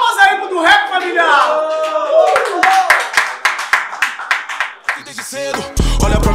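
At a semifinal rap battle of Batalha da Aldeia, a crowd claps in a steady rhythm. The clapping follows a loud shouting voice, with sharp, evenly spaced claps and talk continuing over them.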